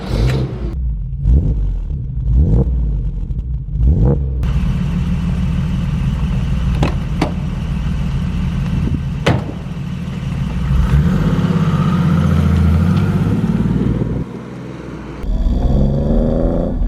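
A 1986 BMW E28 M535i with its M30 engine drives along, its mid-range engine note rising and falling as it revs and shifts, loud and close, with a few sharp clicks and bumps from inside the cabin and no talking.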